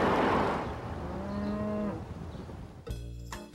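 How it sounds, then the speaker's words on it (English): Cow mooing in a TV commercial, a long drawn-out moo heard alone over steady background hiss, followed by a couple of sharp knocks. "Cow! Yes, sweetie, cow."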